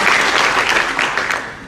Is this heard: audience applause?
yes